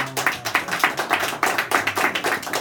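An audience at a lecture breaks into brisk, steady clapping, many hands beating in a fast continuous patter close by, with no talk over it.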